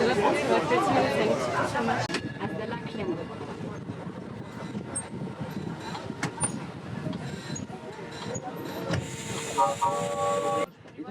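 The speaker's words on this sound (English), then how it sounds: "So I'm on a little tram that's going to go" Rumbling, rattling ride noise of a small battery-electric tram in Switzerland with hissing and clanks, people chattering in the background throughout.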